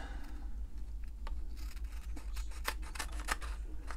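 Scissors trim the edges of a stamped herringbone paper card, with quiet handling at first and then a few crisp, close snips in quick succession near the end.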